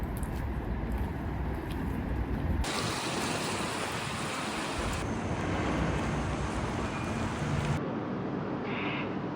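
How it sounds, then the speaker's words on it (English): Strong wind blowing on a cold, windy street in Vienna, a steady broadband roar that surges and buffets the microphone throughout, with no talking. "It's so cold, it's windy"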